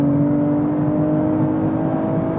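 A sedan engine at high speed, around 200 km/h in sport mode, drones in a steady, fairly loud whir heard from inside the car, with no rise or fall over the short stretch.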